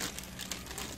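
Plastic bag crinkling close up while a painted vampire reborn doll kit is packed into a box, with soft, irregular rustles continuing steadily through the moment.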